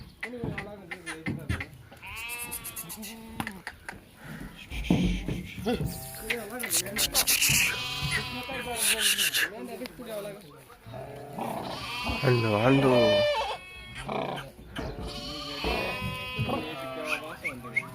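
Several goats, including pregnant ones, bleating repeatedly as goats and sheep are unloaded from a vehicle, some close and loud, overlapping with people talking and calling out nearby.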